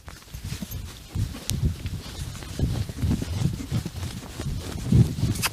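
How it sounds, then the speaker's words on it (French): Horse trotting on an outdoor ride, a rhythmic clip-clop of hooves with a muffled, uneven beat, fairly close with light wind, no talk. "on va trotter, puis galoper un peu"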